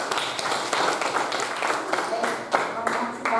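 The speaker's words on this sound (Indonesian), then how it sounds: "kita beri aplaus untuk Lita" A short round of applause for a student during a social studies class, scattered claps from a group running under a speaking voice throughout.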